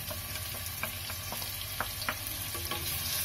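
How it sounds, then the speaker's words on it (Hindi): Finely chopped onions for matar paneer fry in a pan with a soft, even sizzle. Small crackles and pops scatter over the steady hiss. "अब इसे हमें थोड़ी देर इसी तरह से हम इसको फ्राई करना है, हमें सिर्फ इसके सॉफ्ट हो जाने तक इसे हमें फ्राई करना है"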